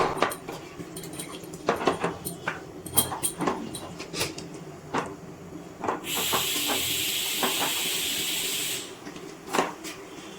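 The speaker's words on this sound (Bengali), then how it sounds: "গ্যাসের ফ্লেম লো টু মিডিয়ামে রেখে দুধের সাথে পেঁপেটা একটু কিছুক্ষণ ফুটিয়ে নেব।" Milk with raw papaya simmers in a pot on a gas stove at low-to-medium flame. Close clinks and scrapes of a utensil against the pot are joined midway by a steady hiss lasting a few seconds.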